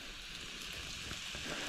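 Light summer rain falls steadily outdoors, a soft continuous hiss of fine drops that is faint and even throughout, with no talking.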